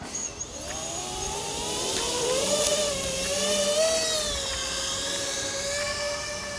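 Motors of a Nazgul F6X FPV drone whine steadily in flight, their pitch rising and falling as the throttle changes, loud and close throughout.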